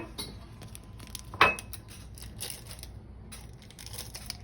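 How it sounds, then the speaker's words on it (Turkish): A packet of henna powder being opened: soft crinkling and rustling with one sharp snip or tear in the middle, close and fairly quiet, with no talking. "İlk önce kınamızı açmamız gerekiyor"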